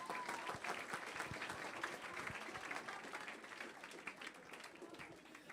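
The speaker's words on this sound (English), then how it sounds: "So let's give him a round of applause." Students at a school outreach session at Guahan Academy applaud a classmate with a sustained wash of clapping that stays steady and fairly close throughout.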